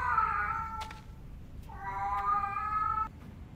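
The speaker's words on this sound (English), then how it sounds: "Dude, is that cat okay?" A cat meows in the horror video game Tsugunohi: two drawn-out, wavering cries, the first fading out and a second rising after a brief pause, close and clear over a low rumbling ambience.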